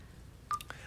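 LG G2 smartphone unlock chime set to its dewdrop effect: a single short, bright droplet-like tone with a quick secondary plink, faint over quiet room hiss.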